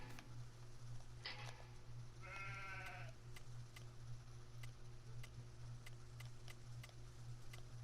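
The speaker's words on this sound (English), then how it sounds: "it's animated sheep. It's not static. They're going about their business." Animated sheep at a livestock purchase point in Farming Simulator 19 on PS4 bleat a couple of times, fairly close, over a steady ambient hum with regular soft ticking.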